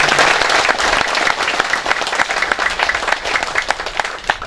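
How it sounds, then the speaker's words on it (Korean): An indoor crowd at a building completion ceremony gives sustained, dense applause for an honoured elderly guest. The clapping stays loud and steady throughout, with no speech over it. "박수로 환영해 주십니다."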